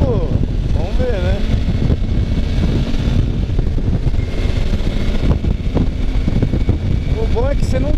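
Riding a Suzuki V-Strom DL 650 motorcycle, with heavy wind buffeting and rumbling engine noise filling the whole stretch and a voice talking intermittently over it.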